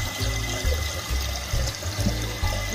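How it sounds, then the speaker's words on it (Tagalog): Water runs steadily into a toilet tank with a broken fill valve, a continuous rushing hiss under a low pump-like hum, never stopping. "continuous pa rin ang tubig niya"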